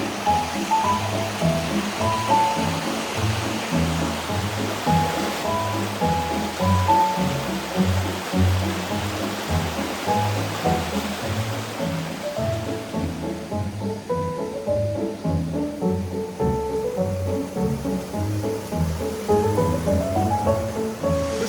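A mountain stream on the Tuscarora Trail rushes steadily nearby, a loud, unbroken flow of water throughout.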